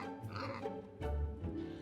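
Pig oinking in a children's fairytale about three little pigs, a run of close, loud grunting oinks with a heavier burst in the second half.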